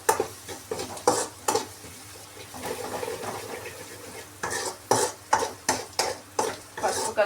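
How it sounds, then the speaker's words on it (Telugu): A spatula scrapes through egg bhurji frying in a pan with turmeric, giving a quick run of sharp strokes over a soft sizzle, then a quieter stretch, then another rhythmic burst of regular stirring, all close up without talk. "పసుపు కలుపుకొని ఒక్క 2 మినిట్స్ అలా వేగనివ్వండి"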